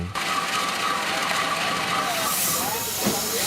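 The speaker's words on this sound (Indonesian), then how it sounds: "Ini adalah pertama kalinya saya melihat lokomotif uap dalam kondisi menyala" A steam locomotive runs at a forest-railway depot near Cepu, giving a steady loud hiss of steam with mechanical rumble and a short sharp burst near the end.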